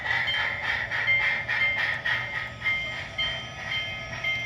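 Chesapeake and Ohio Allegheny steam locomotive with its bell ringing in a steady, even rhythm, about two strokes a second, over a sustained high brake squeal and low rumble, close and fairly loud.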